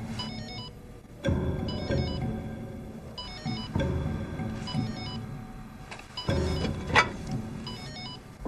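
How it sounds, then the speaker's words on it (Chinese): A telephone rings in repeated short electronic bursts separated by brief gaps, fairly clear against a low background hum, with no one speaking. "刚才怎么不接电话？"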